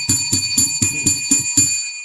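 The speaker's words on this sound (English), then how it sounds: "Let's ring the bell for that too." A bell rung as a sound effect on a sports talk show, about seven rapid, loud, bright strikes in an even rhythm before a short ringing fade, heard alone.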